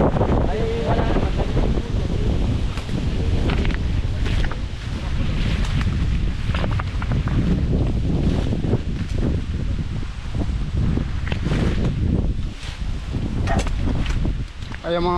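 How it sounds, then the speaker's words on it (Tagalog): Strong wind roars continuously outdoors, heavy gusts buffeting the microphone over rustling leaves, loud and steady for the whole stretch with no pause. "napakalakas ng hangin kasi hindi natin alam baka may bagyo"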